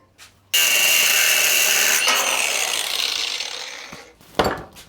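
A saw cuts through pieces of stock for a bike stand build in a home workshop. One loud, continuous rasping cut runs close up for about three and a half seconds, then stops, followed by a brief clatter.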